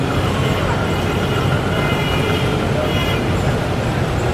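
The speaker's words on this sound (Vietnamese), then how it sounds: "Đó là tiếng xe cộ chạy ngoài đường ha" Steady roadway traffic from vehicles driving along a city street, a continuous dense rumble and hiss with no distinct pass-bys, loud and unbroken throughout.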